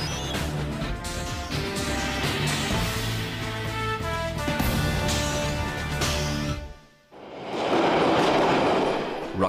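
A London Underground train runs close by with rhythmic clattering and metallic screeching, briefly dropping away before a loud rushing roar returns.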